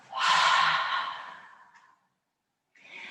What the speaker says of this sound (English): Breathing in deeply and breathing out through the mouth.